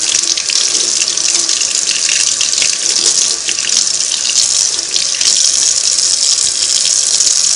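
Steady running tap water gushing into a sink while a Singer 301A sewing machine needle plate is rinsed under it, loud and continuous for several seconds with no talking.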